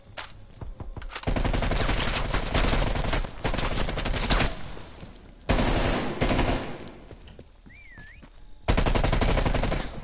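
Video game gunfire in long sustained automatic bursts separated by short pauses, loud and close, with no talk over it.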